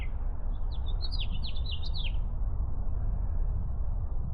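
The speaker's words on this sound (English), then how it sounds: "Now that I've come to a stop, it should be easier to hear the birds." Birds singing at the Audubon Pavilion in Chatfield State Park, a short burst of high chirps early on over steady loud wind rumble, then only the wind continues.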